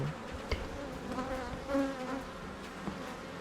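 Honeybees buzzing steadily close by during an early-June inspection of beehives and honey supers, a continuous drone with a few individual bees passing near.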